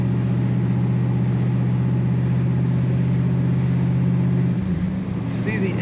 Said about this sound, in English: There's that nice throaty exhaust note.